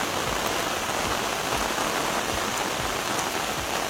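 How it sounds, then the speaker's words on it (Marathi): Heavy afternoon rain falls steadily on a farm field where finger millet has just been sown, a dense, even hiss with drops pattering close by, no voices. "आज दुपारपासून खूप पाऊस लागतो"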